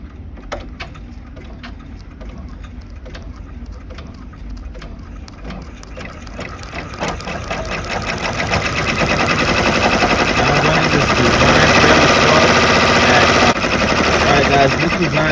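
An embroidery machine stitches a design onto a towel, its rapid mechanical chatter rising in loudness and density midway and then holding steady as a close, continuous whirring rattle with a voice talking over it.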